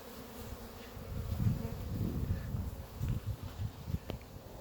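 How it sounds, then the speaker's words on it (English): Honey bees buzz around hives in a hayfield, a soft, steady swarm drone with individual bees zipping past close to the microphone, no voices. "But look at all the bees."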